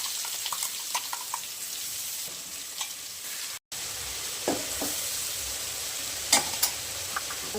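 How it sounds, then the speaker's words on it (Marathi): Mustard seeds, cumin and crushed green chili sizzle steadily in hot oil. Scattered crackles and pops ring out, and a few sharper spatters and clinks come later. Nobody speaks. "थोडीशी ना मोहरी टाकून घेऊयात आपण ह्याच्यात. जिरं पण टाकून घेऊयात आपण त्याच्यात"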